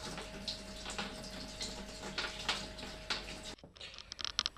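Pump pushing beer wort into a fermenter for a mango lassi IPA, a faint steady rush of flowing liquid that stops abruptly near the end, followed by light splashing.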